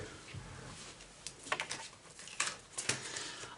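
Playing cards slip and patter onto a surface during a clumsy shuffle, a few scattered light slaps and flutters that come close together over faint room noise.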